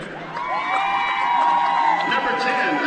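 Basketball crowd during team introductions at a Brush vs. Holy Family boys high school game in Colorado Springs, swelling into loud cheers, whoops and shouting voices that hold strong throughout.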